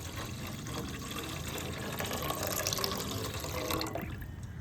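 Three glasses of water pour steadily into a pan of milk while making a banana-and-milk dish in a home kitchen, a continuous close splashing and filling sound with no talk.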